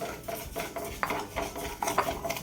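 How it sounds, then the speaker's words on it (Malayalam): Broken wheat being dry-roasted in a hot pan, stirred with a spoon that scrapes and clinks against the metal in a steady, uneven rhythm, close and fairly loud, with no talking. "ചട്ടി ചൂടായി ഞാൻ ഗോതമ്പ് വറുക്കാൻ പോവുകയാണ്"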